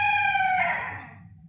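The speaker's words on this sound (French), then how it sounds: "on entend bien le coq" A rooster crows once, a long drawn-out call that fades over about a second and a half, heard clearly above a low background hum with no talking.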